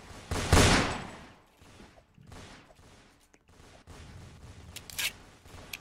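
Gunfire in the Roblox shooter game Fortnite-style match, a loud burst of shots near the start followed by quieter scattered shots and game noise, with another sharp crack near the end.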